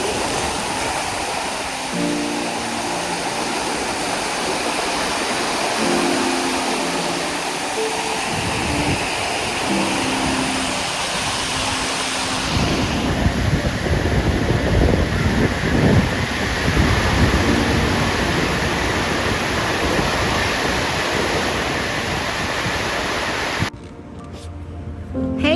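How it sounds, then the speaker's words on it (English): Ocean waves wash at a beach in a loud, continuous roaring rush with surging swells and constant broadband surf noise, briefly cut near the end. "I am at the beach."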